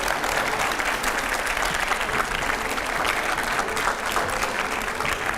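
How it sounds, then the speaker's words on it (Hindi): A studio audience at a Hindi TV news debate gives a Union Minister a loud, sustained round of applause that runs unbroken from start to finish. "जोरदार तालियों से स्वागत है।"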